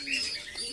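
A Kakji pigeon coos softly and continuously in a loft of summer-bred birds, with faint chirps over a low steady background and no talk.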